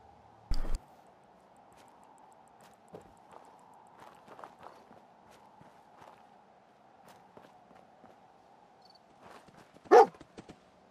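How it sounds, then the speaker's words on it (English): A dog in the video game Fallout 4 gives two sharp, loud barks, one near the start and one near the end, with faint scattered footsteps and soft thumps in the quiet between. "We gotta greet the dog."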